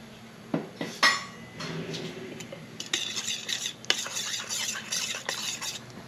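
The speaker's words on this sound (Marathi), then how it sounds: "आता इथे मी 5 चम्मच टाकते पिठी साखरेचे आणि ती चांगली व्यवस्थित मिक्स करून घ्यायचं" A spoon stirs powdered sugar into yogurt in a bowl for dahi bhalle, giving a run of close, bright scraping clinks against the dish that come in uneven bursts, with a few sharper taps.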